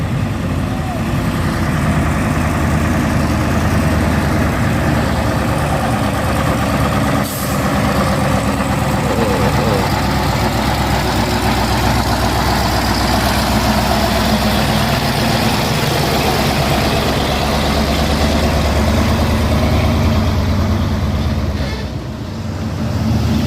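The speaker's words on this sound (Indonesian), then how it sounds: "Ini ada truk tangki" A tank truck's engine idles on a hill road, a steady loud diesel rumble running throughout with one brief hiss and a slight dip near the end, voices heard faintly over it.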